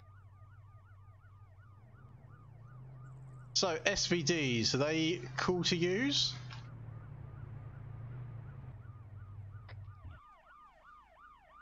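A shot-up police car's siren wails in Arma 3, a steady up-and-down tone running in the background as a voice talks over it midway, with the vehicle's low engine drone underneath.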